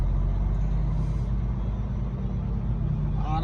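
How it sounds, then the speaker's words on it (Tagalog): Road traffic jam of cars and trucks near Abbotsford, a steady low engine rumble and broadband road noise that stays constant throughout, with a brief air-brake-like hiss near the end. "naipit na tayo sa traffic"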